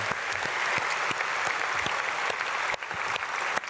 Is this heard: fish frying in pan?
no